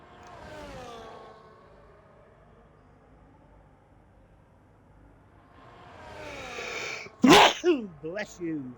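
One loud, sharp sneeze bursts out near the end over a racing-game broadcast, followed by brief voice sounds, after a quiet stretch of low engine drone and commentary-style talk at the start.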